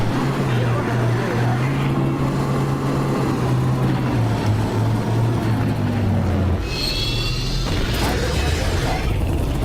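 An armored personnel carrier drives toward an enemy base in the futuristic shooter Battlefield 2142, its engine a steady loud droning rumble with shifting pitch, joined near the end by higher whining mechanical tones.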